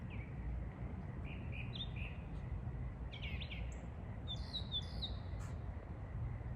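Birds chirping outdoors near trees, several short high calls and tweets scattered over a steady low background hum, moderately distant, no talking.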